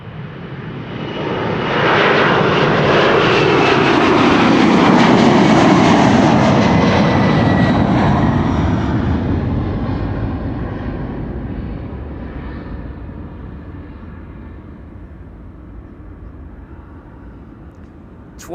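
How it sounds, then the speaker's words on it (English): A 33-year-old United Boeing 767-300 departs Schiphol's runway 24, its loud engine roar swelling to a broad peak within a few seconds before slowly fading into the distance. "All right, 767 300 to Houston. United flight 21."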